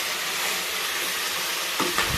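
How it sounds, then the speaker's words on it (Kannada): Radish and potato fry in hot oil for a sambar, a steady close sizzle ending with a couple of stirring clatters, no voices. "ಇವಾಗ ನಾವು ಮೂಲಂಗಿ ಮತ್ತು ಆಲೂಗಡ್ಡೆಯನ್ನು ಸೇರಿಸ್ಕೋಬೇಕು. ಇದನ್ನು ಚೆನ್ನಾಗಿ ಆಯಿಲಲ್ಲಿ ಫ್ರೈ ಮಾಡ್ಕೋಬೇಕು."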